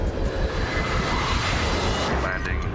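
Steady broadband roar of an airplane engine in flight, heard from inside the cabin as a continuous, even drone with a faint voice briefly underneath.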